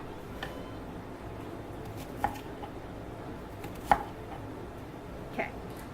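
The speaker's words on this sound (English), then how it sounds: "I'm going to cut them into thin slices" A knife cuts vegetables into thin slices for a vegan quiche, giving a few sparse, sharp taps on a cutting board spaced well apart in a quiet kitchen.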